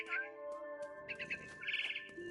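A mother bird chirps in a big tree in the video game What Remains of Edith Finch, giving a few short, bright tweets in quick succession over a sustained tonal background.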